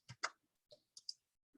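Keys clatter on a keyboard as an answer is typed, a few sparse, quiet clicks spaced out in an otherwise silent room.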